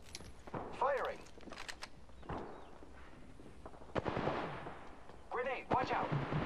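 Scattered gunshots in the video game Apex Legends, a few sharp bursts and single cracks spread across the moment, moderately loud, with in-game voices and chatter woven between them.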